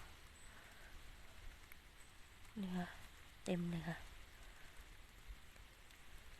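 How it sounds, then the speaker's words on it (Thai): Rain falls steadily in a German forest during mushroom picking, a faint, even patter throughout, with someone briefly speaking over it. "ฝนก็ตก"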